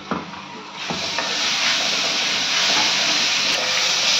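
Small onions sizzle steadily in a hot pan while being sautéed for a chicken dish, a continuous loud frying hiss with a few faint clinks early on and no talking.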